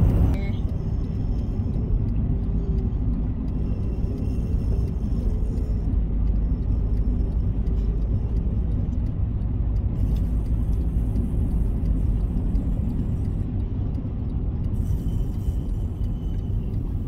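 Steady low rumble of a car driving through a small Oklahoma town near red hills, a constant road and engine drone heard from inside the vehicle, fairly quiet with no talk.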